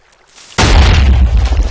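A TNT cannon detonates in the Minecraft video game, one loud, deep boom with a sharp onset after a quiet lead-in, followed by a sustained rumbling roar that holds to the end.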